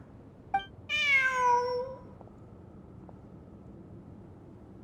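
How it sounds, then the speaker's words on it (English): A cat in the video game Genshin Impact gives one clear, rising-then-falling meow at close range. It follows a short click, and the rest is near silence. "Look! A cat!"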